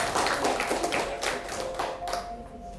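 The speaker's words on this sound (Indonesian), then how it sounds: "Tepuk tangan untuk kita semuanya." A small group claps together after a guided relaxation session, a steady patter of hand claps over nearly three seconds, moderately loud and without talk.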